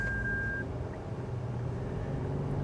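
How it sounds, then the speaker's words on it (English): A single short electronic warning beep from a Lexus GX550's driver-assist system during a left turn, sounding once near the start over a low, steady cabin road hum. "The vehicle just beeped at me as I was turning left"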